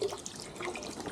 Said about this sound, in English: Now some water's coming out.